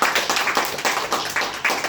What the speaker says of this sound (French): Est-ce qu'on peut applaudir Florian qui actuellement gère la lumière?